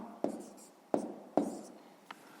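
Pen strokes writing down a math answer, three firm taps followed by a fainter fourth, close and quiet with no talk.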